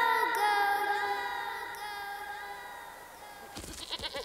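A cartoon goat bleats in a long wavering, tonal call that slowly fades, followed by a brief scuffle of other sound at the end.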